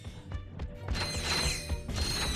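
The claw weapon fires in Ratchet and Clank 2: Going Commando, a burst of rapid mechanical clicks and ratcheting whirs, then a bright metallic crash with a ringing, shimmering tail, loud and close.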